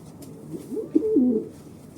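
Racing pigeons coo close by in a short, soft, throaty phrase of a few rolling notes, with nothing else heard and no talk.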